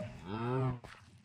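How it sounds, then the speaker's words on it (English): A cow in the video game Minecraft lets out a single low, drawn-out moo, followed by a few soft footstep-like taps. "Y'all hearing this? Where the heck's this cow at?"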